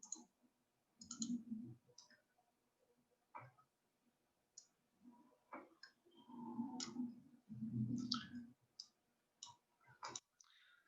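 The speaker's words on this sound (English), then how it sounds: "you would click another button" A computer mouse gives a run of quiet, sharp clicks in irregular bursts, close and fairly faint, with near silence between them.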